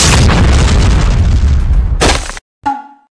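A bomb explodes in a chess-style video game: a loud, booming synthetic blast that cuts off abruptly, followed by a brief ringing tone.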